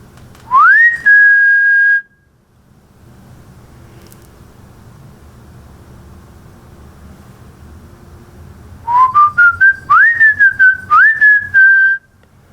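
A person whistles a short rising note, then silence with faint room hiss, then a run of several quick whistled notes rising and falling, loud and close.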